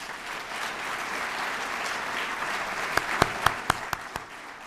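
A crowd at the Gaithersburg State of the City 2013 event applauds its elected officials, with dense, steady clapping across the room and a few louder individual claps standing out near the end as it tapers off.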